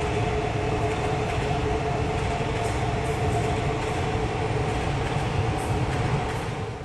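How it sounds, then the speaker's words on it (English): A New York train rolls past close by, a steady loud rumble of wheels and carriages that holds evenly throughout and eases slightly at the very end. "And there's another one of these trains going the other way."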